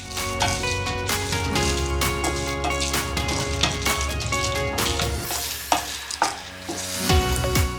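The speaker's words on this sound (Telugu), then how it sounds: "దోరగా వేయించుకోవాలి." Toor dal, cumin and dried red chillies are roasted in a little oil in a pan, stirred steadily with a soft sizzle and scraping clatter under continuous background music.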